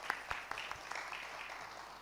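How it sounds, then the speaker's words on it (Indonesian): An audience in a hotel hall applauds at a newspaper's tenth anniversary celebration, a soft, distant patter of many hands with a few sharper claps near the start. "Tepuk tangan dulu buat Tribun Jateng."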